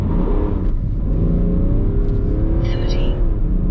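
BMW F31 330d estate, a diesel with a stage 1 remap, accelerating hard on a 0-60 run, its engine droning loud and close from inside the cabin as the pitch climbs steadily through the gears.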